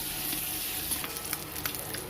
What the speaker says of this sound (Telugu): ఎగ్స్ని బాగా ఫ్రై చేసుకోవాలి.